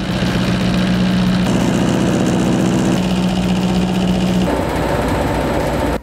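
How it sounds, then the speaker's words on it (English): A rug cleaning machine beats dry soil out of a rug, a loud steady mechanical drone with a strong low hum and rattling vibration that shifts pitch and texture a few times before cutting off at the end. "With our machine, we'll remove all the dry soil in 3 minutes with no damage to your rug."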